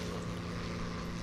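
Overheating aircraft engines in a flight video game drone with a rough, steady hum, a short, low, even rumble without clear sputters and with no talk over it.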